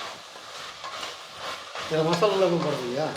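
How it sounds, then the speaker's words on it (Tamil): Vegetables sauté in a pan for biryani, a soft sizzle with spoon stirring and scraping against the cookware, while a voice talks over the cooking. "காயெல்லாம் நல்லா ரெண்டு நிமிஷத்துக்கு நல்லா வதங்கிடுச்சு"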